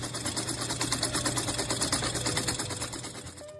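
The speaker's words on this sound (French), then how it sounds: "Voici l'actionneur de Westgate du client." Turbo wastegate actuator on a Hyundai Sonata 2.0T with 140,000 miles and a lit check-engine light, cycling with the engine off, giving a close, steady rhythmic mechanical buzzing that fades slightly near the end.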